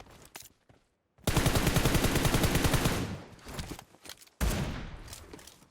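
Rapid automatic gunfire in the PUBG Mobile video game: a loud, close sustained burst of about two seconds, then a second burst after a short gap, with a few isolated shots before.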